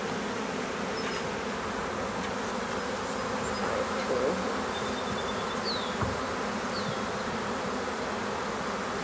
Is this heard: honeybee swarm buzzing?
yes